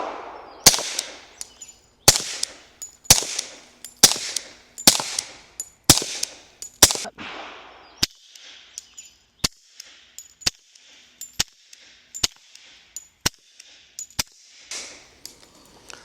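Suppressed shots from an HK USP Compact pistol fitted with a Dead Air Mojave 45 silencer, about a dozen sharp cracks fired at a steady, roughly one-second rhythm outdoors, the first several followed by brief echoing tails.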